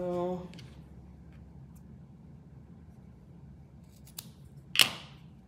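Scissors trim the fabric ties on a sewn Envelope suit, a single crisp snip near the end of a quiet stretch, after a brief voice at the start.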